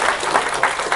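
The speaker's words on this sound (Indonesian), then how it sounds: "Boleh minta apresiasi dan tepuk tangan lagi buat Bang John." Audience applause from a seated crowd at a business talk event, dense steady clapping close by for about a second.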